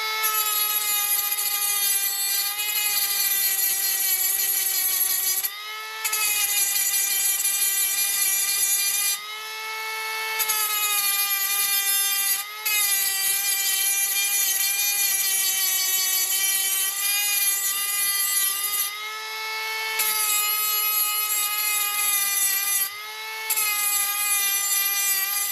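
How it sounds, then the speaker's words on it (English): A small grinder runs steadily against a metal compression post for a sailboat screw jack, grinding raised letters flat with a high, whining tone, pausing briefly a few times and restarting, loud and close with no talk. "So I use my little grinder here."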